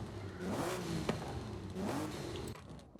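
A car in Forza Horizon 5 with a fully upgraded engine revs its exhaust twice in quick swells, a throaty rise and fall that fades at the end.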